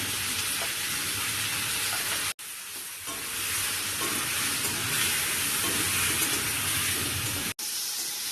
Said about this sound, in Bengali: একটু ভেজে নেব আলু বরবটি একটু ভাজবে এবার মশলা দিয়ে দেবো হালকা করে ভাজবে প্রথমে দিয়ে দেবো পেঁয়াজ বাটা